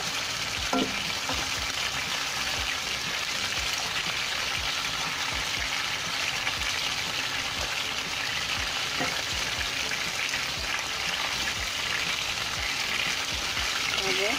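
Chicken roast pieces fry slowly in oil over low heat with a continuous, even bubbling sizzle throughout, steady in level and close up, with occasional faint knocks.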